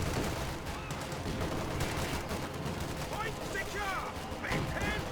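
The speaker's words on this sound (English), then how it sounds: "Do have a 50 cal machine gun getting upgraded for the fighting position, but it manages to stop all the enemies cold and force the retreat." A .50 cal machine gun fires in a World War II battle in the strategy game Company of Heroes 2: dense, continuous bursts of gunfire and clatter run through the whole clip, mixed with other battle sounds and a commentator's voice.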